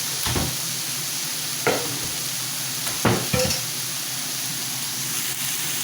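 Eggplant pieces for a dahi baingan masala frying in a pan, with a steady close sizzle broken by several scraping stirs, no talking.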